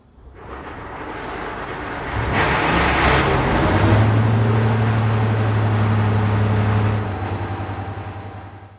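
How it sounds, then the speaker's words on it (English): Deltic D9015 locomotive, 55015 Tullyar, cranks its number 1 diesel engine at Barrow Hill Roundhouse, a low rumble swelling into a loud, steady idling drone with a deep hum. "Alex kindly fired up engine number 1 on 55015 Tullyar."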